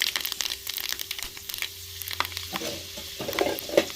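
Chopped onions fry in hot oil in a pan, a close crackling sizzle with scattered pops and stirring scrapes, growing busier toward the end.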